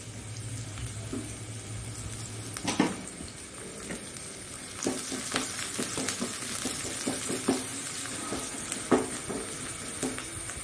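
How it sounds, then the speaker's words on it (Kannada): Chopped onions fry on a low flame for a Mangalore-style kingfish masala, a soft continuous sizzle broken by a series of sharp spoon-against-pan scrapes and taps while stirring, with no talking. "ಈಗ ಈ ನೀರುಳ್ಳಿ ಒಳ್ಳೆ ಸಣ್ಣ ಉರಿಯಲ್ಲಿ ಒಳ್ಳೆ ಫ್ರೈ ಆಗಬೇಕು, ಬ್ರೌನ್ ಕಲರ್ ಬರಬೇಕು"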